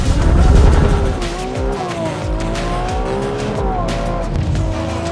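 A Ferrari 296 GTB accelerates hard on a race track, its engine note climbing loud and close through repeated gear changes, with brief tire squeal.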